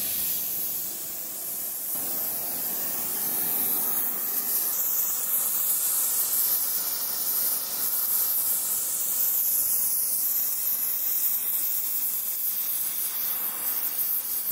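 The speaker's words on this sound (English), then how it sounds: "I am going to use the concentrated heat from the puddle gun to get it red hot before I apply any material" An oxy-acetylene puddle gun flame heats a part to red hot, giving a steady, loud, broadband roaring hiss that holds continuously from start to finish with no talk.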